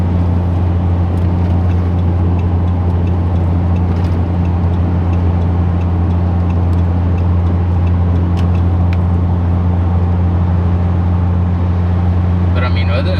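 A 4th-gen Cummins diesel engine swapped into a 2nd-gen truck holds a steady, loud, deep drone at half throttle, continuous and close, with no clear rise or fall in pitch.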